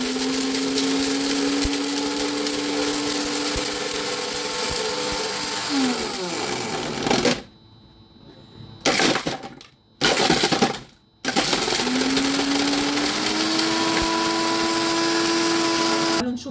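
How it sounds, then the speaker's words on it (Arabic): A kitchen blender grinds up a glass cup with a loud, close, rattling roar. The motor cuts out and restarts in a few short pulses midway, then runs steadily again. "تعالوا نشوف بقى فعلا فرم لنا الازاز ولا ايه"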